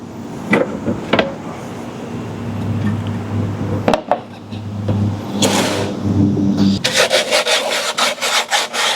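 Sandpaper rubbing over the rough edges of a homemade camping window A/C vent, a steady scratchy friction with a few sharp knocks, followed near the end by quick repeated back-and-forth strokes.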